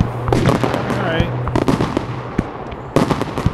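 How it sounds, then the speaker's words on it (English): The Fourth of July fireworks finale gives rapid crackling bursts and sharp distant booms with faint whistles, loud and dense, with voices mixed in. "Let's enjoy these last fireworks because it's the final finale."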